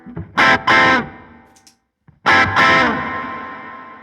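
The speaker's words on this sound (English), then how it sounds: "Just a lovely plate reverb." An electric guitar plays two loud strummed chords through a Hoff Mini plate reverb pedal, each ringing out into a smooth, washy reverb tail that fades slowly.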